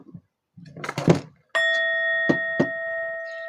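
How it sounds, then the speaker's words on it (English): A struck bell rings out once in a quiet room after brief shuffling of objects, its bright sustained tone lingering and fading slowly, with a couple of soft knocks heard over the ringing. "I'm going to hit the bell"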